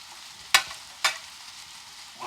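Potatoes in a hot cast iron skillet give a faint, soft sizzle broken by two sharp stirring scrapes about half a second apart, with a small clatter at the end.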